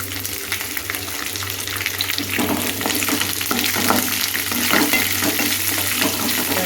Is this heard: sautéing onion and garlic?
yes